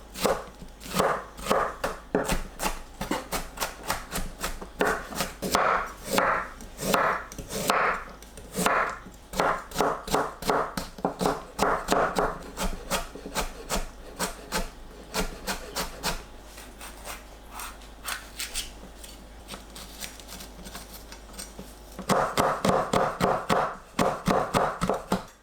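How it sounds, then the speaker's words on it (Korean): A knife finely chopping onion, carrot and red chili on a cutting board, fast rhythmic taps in long bursts with short pauses, close and clear with no talking. "양파, 당근, 홍고추를 잘게 썰어주세요."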